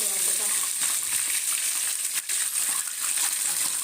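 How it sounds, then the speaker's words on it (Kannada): Garlic, ginger and masala frying in a pan, a steady hissing sizzle with scattered crackling pops, close and fairly loud, with a faint voice talking underneath. "ಪುಲೆ ಪಟ ಪಟ ಪಟ ಪಟ ಸೌಂಡ್ ಇಂಜೆ ಫ್ರೈ ಆಂಡ್ ಇಂಜೆ ಫ್ರೈ ಆಗೋದು"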